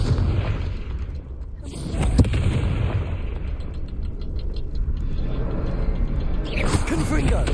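A Confringo spell explosion in Hogwarts Legacy lands as a loud, rumbling boom with crackling bursts under the game's ongoing background noise and speech, and a sharp pop comes near the start.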